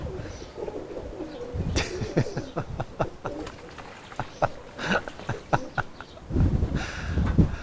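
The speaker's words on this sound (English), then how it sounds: "Hey, oh, it's pigeons." Roller pigeons cooing in a group, with low burbling coos and splashy, sloshing bursts from birds in a water bath, some louder flurries near the end.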